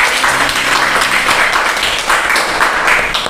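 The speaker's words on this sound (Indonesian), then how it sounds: "Tepuk tangan dong teman-teman" An audience claps together in loud, dense applause that carries on steadily for a few seconds after a request to applaud a speaker at a sharing session.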